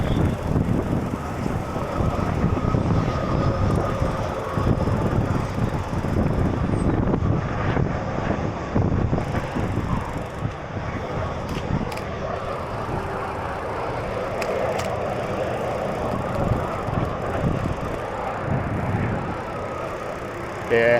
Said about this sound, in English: You'll be able to hear how windy it is, obviously, and how well the drone flies in the wind.